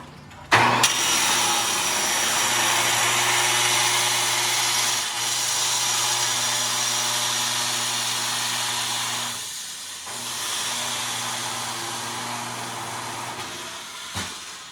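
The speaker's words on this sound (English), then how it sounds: "I just cut the drive shaft off" A truck drive shaft being cut off with a power tool: a loud, continuous hissing, grinding whine with a steady motor hum, dipping briefly around the middle and easing near the end, close and unaccompanied by talk.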